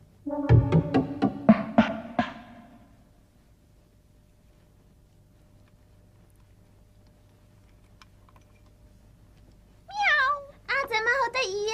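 A cartoon cat meows a few times, near and clear, at the end after a long quiet stretch; a short burst of plucked music opens the scene.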